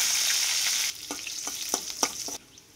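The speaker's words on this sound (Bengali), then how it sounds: "তেল কিন্তু ধোয়া ওঠা গরম হয়ে গেছে। এবার দিয়ে দিচ্ছি একটা রসুন কুচি" Chopped garlic hits smoking-hot oil with a loud hiss that drops after the first second, followed by several sharp, spaced stirring scrapes in the pan before the sizzle fades at the end.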